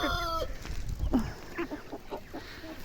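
Chickens clucking nearby in short, irregular bursts, fairly quiet against a faint outdoor background.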